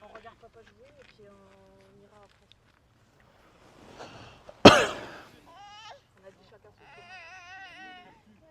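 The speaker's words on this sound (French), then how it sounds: "En plus, tu viens de tousser." A single sharp cough bursts out amid scattered speech, loud and close, followed by more talking.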